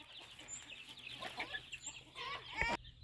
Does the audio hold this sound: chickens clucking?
yes